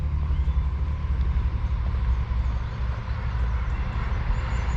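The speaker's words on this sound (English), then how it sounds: "Another train going by also." A low, continuous rumble of a train passing at a distance, steady and droning with no distinct clatter, heard without any voices.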